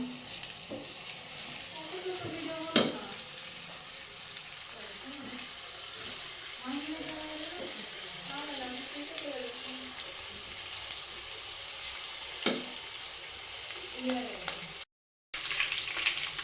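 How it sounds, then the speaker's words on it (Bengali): Sliced onions fry in hot oil with bay leaves for a tomato chicken curry, giving a faint, steady sizzle with small crackles throughout, while a voice murmurs softly in the background. "পেঁয়াজটা আমার ভাজা হয়ে গেছে"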